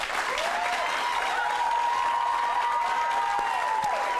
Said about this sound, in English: That clap is not good enough.